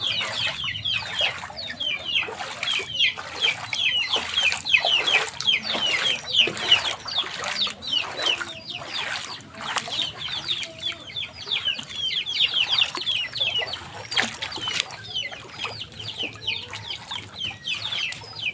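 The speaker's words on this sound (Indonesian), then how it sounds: "Wah nih banyak peliharaan ayam kayaknya nih." Many chickens cluck and squawk in a crowd at coop pens beside floodwater, with repeated bursts of wing flapping and a steady chorus of calls throughout.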